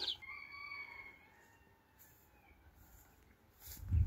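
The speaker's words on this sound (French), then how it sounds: "maintenant, on va aller voir les poulets." A rooster crows faintly at a distance over quiet background, followed by a soft bump near the end.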